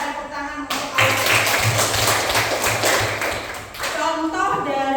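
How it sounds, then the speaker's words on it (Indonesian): A classroom of students claps for a classmate after her answer during a lesson, a burst of fairly loud, close applause that starts abruptly and tapers off, with a teacher's voice before and after. "Tepuk tangan untuk Aura."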